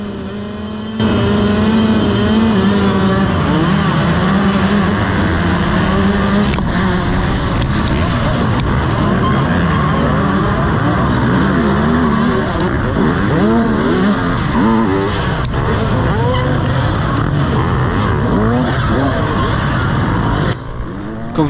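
Motocross bikes race at a semi-night event in Le Boupère, engines screaming loud and close, rising and falling through shifts and throttle bursts with several machines overlapping in a continuous, busy roar.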